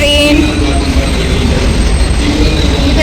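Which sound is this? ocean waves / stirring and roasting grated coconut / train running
train running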